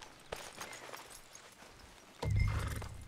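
Horse hoofbeats in Red Dead Redemption 2 clop along quietly, then a louder burst of galloping hooves and snorting takes over near the end, fairly close.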